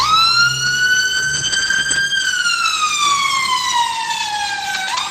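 A loud wailing siren sweeps up and then slowly falls in pitch, sustained and close, with traffic rumbling underneath, in Nigeria.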